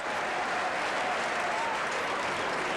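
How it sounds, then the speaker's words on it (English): Steady applause from a large live audience at the 1993 Eurovision Song Contest, continuous and broadband, filling the whole stretch without any voice on top. "a very lugubrious kind of a round of applause from him"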